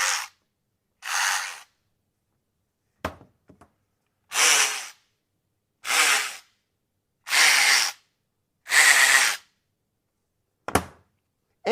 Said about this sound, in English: you'll notice this motor is turning differently each time you pull the trigger